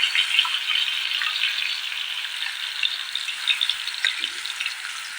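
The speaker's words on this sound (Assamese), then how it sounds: "এই মছলাখিনি মই ভালদৰে ভাজি লওঁ" Ground masala paste for paneer curry fries in a pan over medium flame, giving a steady, close, continuous sizzle with small crackling pops and no talk.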